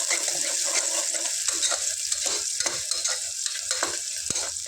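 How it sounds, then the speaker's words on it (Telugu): Onions and green chillies fry in hot oil for country chicken curry, giving a bright continuous close sizzle with repeated scraping stirs of a spoon through the pan. "ఇందులో ఒక టూ ఆనియన్స్ ఒక ఫోర్ మిర్చి కూడా వేసుకుందాం లైట్ గోల్డెన్ బ్రౌన్ కలర్ వచ్చే వరకు ఫ్రై చేసుకుందాం"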